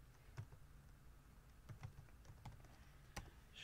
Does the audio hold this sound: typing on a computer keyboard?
yes